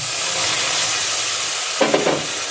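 Melted sugar and mango pulp stirred in a wok for mango kheer, giving a steady close sizzle with a brief scraping burst near the end.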